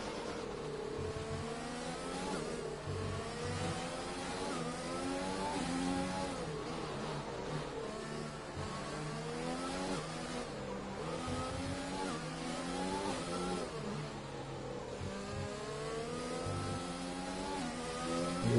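Formula 1 cars in a racing video game on the Singapore circuit roar down the straight at full throttle, their high-pitched engines climbing through repeated gear changes, steady and fairly close, with no voices over them.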